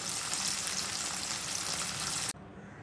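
Fish pieces fry in hot oil with a loud, dense, steady sizzle and crackle that cuts off abruptly near the end.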